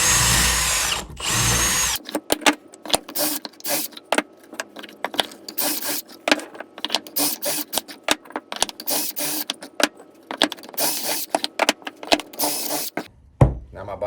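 Power drill countersinking screws into wooden sides and bottom of a firework mortar rack, with repeated short whirring bursts and stops, loud and close, after a brief steadier run at the start.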